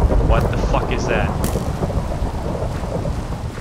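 Lightning strikes in the Minecraft video game with a loud crack and a rolling rumble of thunder over rain-like noise, and a voice talks over part of it.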